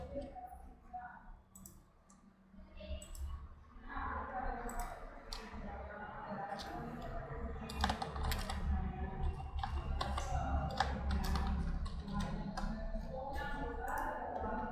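Computer keyboard being typed on, with quick irregular clicks and taps close by, mixed with a few mouse clicks, over a low background murmur.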